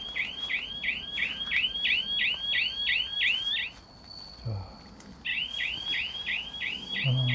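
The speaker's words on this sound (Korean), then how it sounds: "이렇게 삑삑이가 시간 되면 울립니다." Rapid electronic beeping from a timer alarm repeats in quick bursts, pausing briefly before resuming, over faint outdoor background noise on a pear farm.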